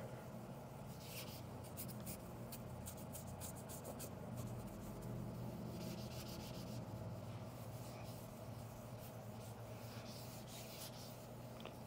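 Fine 3000-grit pad rubbed by hand over damaged car paint with a drop of surfactant as lubricant, a steady soft scratchy hiss with repeated strokes, continuous and close, no talking.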